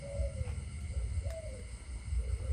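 Young Malaysian spotted doves coo softly in a repeating rhythm, three or four mellow, gently falling calls over a low background hum, fairly close and faint.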